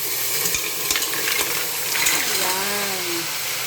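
A kilo of mussels tumbles into sautéed onion, garlic and ginger, setting off a loud, steady sizzle with clattering shells and stirring up close, and a brief voice near the end.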